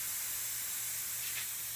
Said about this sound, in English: This compressor leaks like a sieve